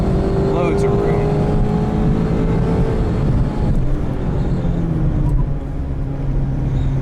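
A 2019 Mazda MX-5 RF Miata is driven on a race track, its engine note rising and falling through gear changes over constant road and wind noise, loud and close from inside the car.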